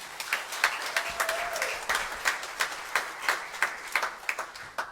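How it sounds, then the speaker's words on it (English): A church congregation claps for its prayer chaplains, a modest round of distinct, fairly quiet hand claps with a loose, uneven rhythm. "Please give them a round of applause."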